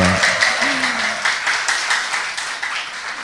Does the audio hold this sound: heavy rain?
no